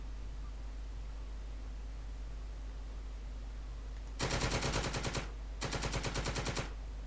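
Tank machine guns firing in a Normandy beach-invasion video game: two loud, rapid bursts of automatic fire, the first about a second long and the second slightly longer, separated by a short pause over a steady low background hum.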